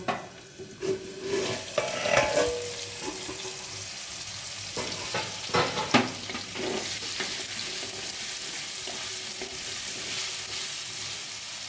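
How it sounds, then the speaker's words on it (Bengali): Radish and green peas fry in a wok, giving a soft, steady sizzle broken by several louder stirring scrapes and clatters early on, all close and fairly quiet with no speech. "ঢাকা দিয়ে দিয়ে ভাজা করব, যাতে মূলোটা সেদ্ধ হয়।"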